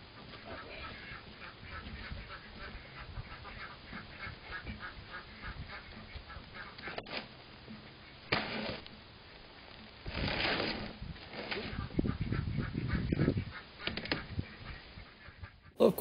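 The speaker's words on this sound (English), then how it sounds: "Next, to break the ducks out." Ducks quack in scattered bursts over a steady low background rumble on a cold homestead day, with a denser cluster of calls near the end.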